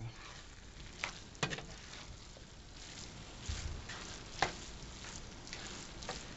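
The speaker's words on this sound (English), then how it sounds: "Stir that back up." Mexican rice cooking in a pan with salt is stirred, with faint spoon scrapes and a few light clinks over a low, quiet bubbling sizzle.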